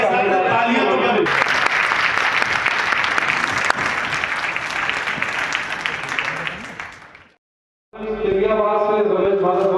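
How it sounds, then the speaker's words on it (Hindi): A crowd at a trade conference claps loudly and steadily for several seconds, fading out, then a voice speaks briefly after a short silence. "एक बार आपके साथ तालियां तो करें"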